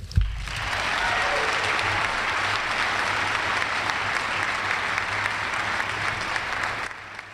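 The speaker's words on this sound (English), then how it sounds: "the thunderous applause" Thunderous applause from fans at a Texas A&M Aggies press conference introducing Calhoun and Brooks: a dense, sustained roar of clapping that swells quickly, holds steady for about six seconds, then cuts off.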